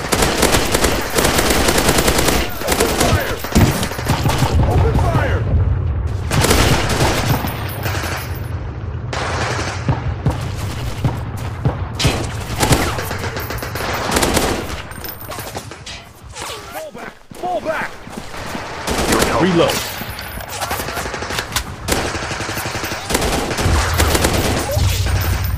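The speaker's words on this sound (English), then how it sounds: "Under heavy fire." Heavy video game gunfire keeps up dense, continuous machine-gun bursts and volleys with short pauses, loud and close throughout, with voices speaking over the shooting.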